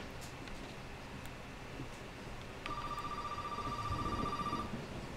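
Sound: telephone ringing in video game Resident Evil 7

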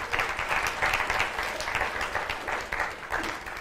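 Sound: audience applause

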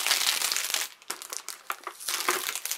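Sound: paper being crumpled while unwrapping an advent calendar gift

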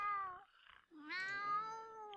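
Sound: cat meowing in the video game The Sims 2

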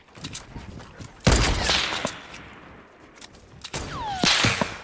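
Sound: gunfire in the video game Fortnite

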